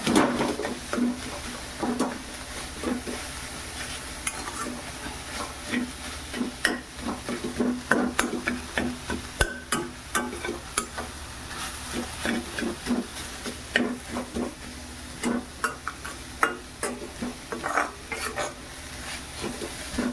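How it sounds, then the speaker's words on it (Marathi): Grated coconut and jaggery being stirred in a pan for karanji filling, with a steady run of scraping, clacking spoon strokes over a soft sizzle, close and continuous. "असंच आपल्याला ढवळून दळून घ्यायचं आहे जोपर्यंत आपला गोड विकलत नाही तोपर्यंत"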